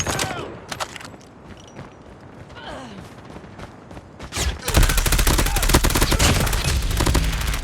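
Rapid automatic gunfire from the Switchblade X9 in a multiplayer shooter match, starting with scattered shots and clicks then erupting into a loud, sustained burst of fire that runs to the end.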